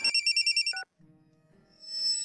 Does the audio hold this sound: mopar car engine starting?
no